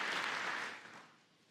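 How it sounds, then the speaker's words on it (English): Applause from part of a congressional audience at a joint address, a brief burst of dense clapping that fades out after about a second. "A couple are applauding."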